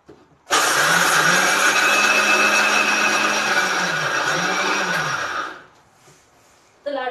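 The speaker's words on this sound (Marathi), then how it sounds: "ते मिक्सरला वाटून घेते." A kitchen mixer grinder whirs loudly for about five seconds grinding roasted peanuts, the motor pitch wavering as the load shifts, then it winds down and stops, with a brief noise at the end.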